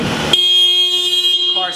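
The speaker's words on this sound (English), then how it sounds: "alarm goes off, we all suffer" After a door opens, a Sprinter van's anti-theft alarm sounds a loud, sustained electronic tone that starts abruptly and holds steady, with brief noise just before it.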